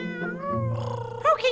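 A cat meows several times in drawn-out, rising and falling cries, ending with a couple of sharper, higher calls, close and fairly clear.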